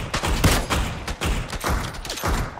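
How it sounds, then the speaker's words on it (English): Rapid bursts of gunfire ring out in the battle-royale video game PUBG, several loud volleys of close shots in quick succession with no talking over them. "Someone's shooting us."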